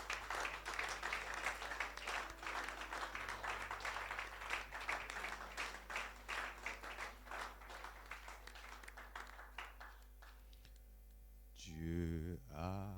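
Congregation at a church service in Gabon applauding the Lord, dense sustained clapping from many hands over a low hum, thinning toward the end before a brief voice.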